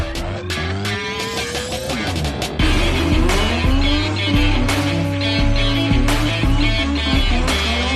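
A car at a racetrack roars loudly with rising and falling engine revs, gear changes and squealing tires, close and dominant with no talk over it.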